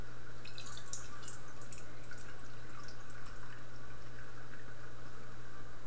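About a cup of water is poured into a cooking pot as a steady, unbroken trickling stream, moderately close, with a constant low hum underneath throughout.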